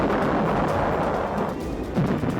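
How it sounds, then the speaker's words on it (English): Artillery fire for a war documentary about the Battle for Singapore, a dense continuous rumble of distant booming guns and blasts, loud and sustained with no distinct separate shots. "They could now easily direct artillery fire on the defenders."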